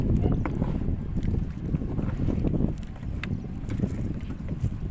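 Strong sea wind roars over a small fishing boat, steady and loud with gusty buffeting against the microphone and faint knocks of the hull and gear beneath.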